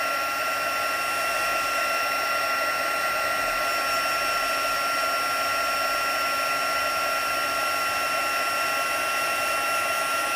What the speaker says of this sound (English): Unfortunately, my heat tool is not heated.